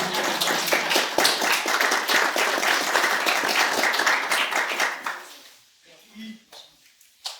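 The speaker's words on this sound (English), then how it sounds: "give yourself a round of applause" Audience at an alumni conversation event breaks into loud sustained clapping that fills the room for about five seconds, then fades to scattered claps and a few voices.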